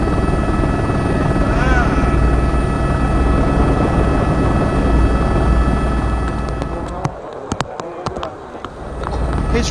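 Helicopter rotor thrum hovers over a gravel rally stage during the 2002 Cyprus Rally, a loud continuous drone that dips and fades briefly near the end before swelling again.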